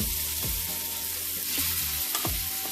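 Chicken wings sizzling steadily in a hot pan for smothered wings, a loud, continuous close-up frying hiss with a few brief stirring scrapes.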